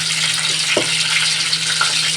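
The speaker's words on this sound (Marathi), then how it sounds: "फोडणी देते." Spices tempering in hot oil with fried onion for a home-style chicken gravy give a steady, close sizzle that runs the whole time, with a brief stir or spoon sound partway through and no talking.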